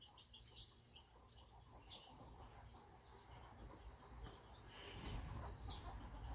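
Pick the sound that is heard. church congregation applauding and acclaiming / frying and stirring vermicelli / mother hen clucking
mother hen clucking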